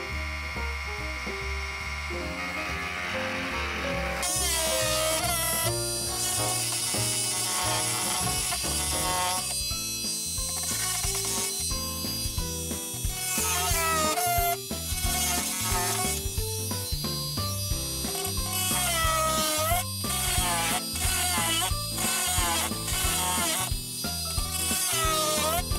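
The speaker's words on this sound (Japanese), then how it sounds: "カットする場所が決まったらまたマルチツール使って切っていきます。" An oscillating multi-tool cuts through a wooden stud inside a wall during a DIY outlet installation, giving a loud, steady buzzing whine whose pitch shifts and wavers with the load for the whole stretch.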